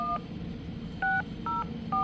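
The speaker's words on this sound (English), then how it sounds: "let me dial my phone number" Dialing tones from an MSAT G2 satellite phone terminal: four short keypad beeps, the first at the very start and three more in quick succession near the end, over a low steady hum.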